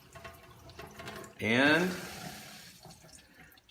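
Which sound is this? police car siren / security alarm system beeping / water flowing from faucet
water flowing from faucet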